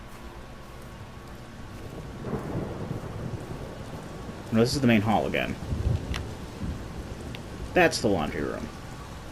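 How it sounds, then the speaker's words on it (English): Steady rain with low thunder rumbles pours through a rural English village setting in the game Everybody's Gone to the Rapture, a constant wet wash running beneath two bursts of someone talking. "it's going to be perpetually raining here as well"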